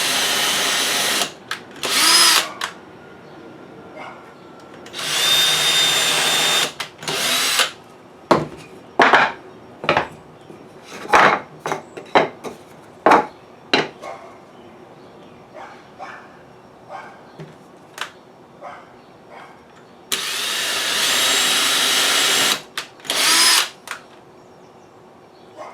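A power drill bores pilot holes through two stacked pieces of wood in long whirring bursts at the start and end, with a busy stretch of clattering, knocking handling sounds between, close up and without speech.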